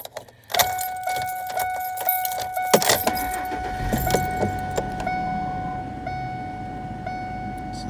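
A 2002 Ford F-150 pickup with 334,000 miles is started with its keys: a jingle of the key ring, a short cranking burst, then the engine catches and settles into a steady idle with a chime ringing over it.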